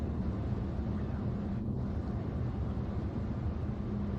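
Wind and tyre rolling noise inside a Renault Rafale PHEV 400hp at high speed, a steady broadband roar with low rumble, continuous and even, with no talking.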